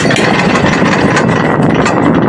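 A loud, steady fishing boat engine idling up close at Casiguran, Aurora, Philippines, a continuous rumbling drone with no speech over it.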